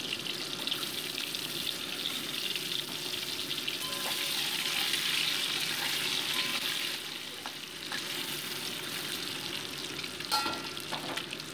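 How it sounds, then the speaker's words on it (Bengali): Boiled eggs frying one by one in hot white oil in a wok, producing a steady near sizzle with light stirring and a few small clinks, slightly quieter after the midpoint, and no talking. "আর কড়াইতে সাদা তেল গরম বসিয়ে আমি ডিমগুলোকে একে একে ভেজে তুলে নিচ্ছি"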